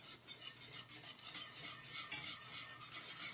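A whisk scrapes and rasps steadily around a pot of thick chocolate custard, a continuous soft scratching and stirring texture with no talking.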